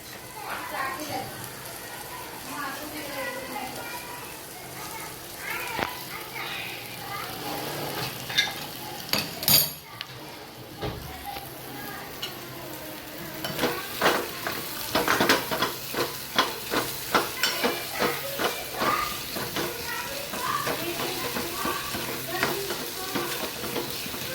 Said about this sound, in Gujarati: મેં આ રીતે જે વઘાર કર્યો તે અંદામાં નાખી દીધો છે